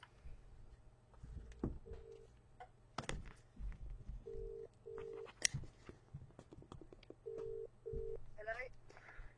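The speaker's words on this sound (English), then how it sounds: "Now let's make a phone call." A phone call is placed as keypad tones beep in short pairs and single presses, spaced irregularly among soft clicks, rustling and quiet talk, ending in a faint ring.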